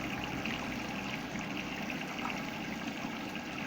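A washing machine takes in water, a steady close rush and hiss of flowing water that continues evenly with no voices.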